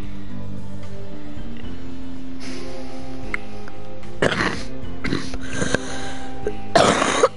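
A person coughs in three rough bursts during a We Happy Few game stream, the coughs loud and close over a steady bed of game music and tones.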